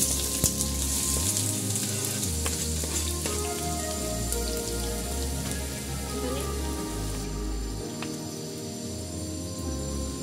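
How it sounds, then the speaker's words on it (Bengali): Onion frying in a pan for an egg curry, a loud, dense, continuous crackling sizzle that holds steady throughout over a low background hum. "আমি পেঁয়াজটা ভেজে নেব।"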